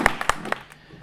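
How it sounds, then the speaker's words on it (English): A few separate hand claps from a small business-talk audience: four or five sharp, close claps in the first half-second, then fading into quiet. "Give a round of applause."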